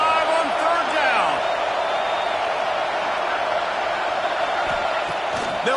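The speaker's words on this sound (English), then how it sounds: "The Buckeye crowd alive on 3rd down." Football stadium crowd at an Ohio State Buckeyes game roaring steadily on third down, a dense continuous wall of cheering and whoops from a large distant crowd throughout, without a break.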